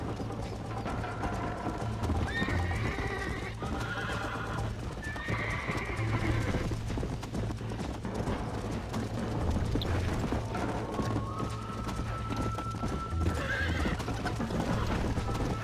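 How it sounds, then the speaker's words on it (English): Steady clip-clop of hooves galloping at a quick rhythm in the video game Red Dead Redemption, with a horse whinnying and mechanical clicks over a constant low hum. "You're gonna wear that horse out!"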